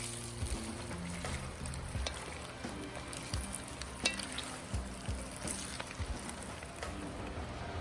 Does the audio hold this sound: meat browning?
yes